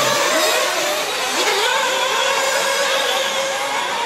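A race car engine revs and accelerates during a competition heat, its loud, steady mid-pitched drone holding close and constant for several seconds with no voices over it.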